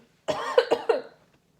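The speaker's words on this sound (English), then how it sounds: "This could be why I'm coughing." A person coughs nearby in one short burst of three or four quick, harsh coughs, then falls silent.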